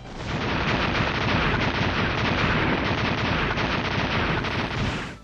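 Rapid boss gunfire in the video game Mega Man X6, a dense, loud, continuous barrage of synthetic shots and blasts hammering without pause for several seconds.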